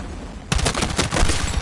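Dense automatic gunfire from the video game Battlefield 6 erupts after a brief quiet moment, a loud, rapid rattle of shots that keeps going to the end.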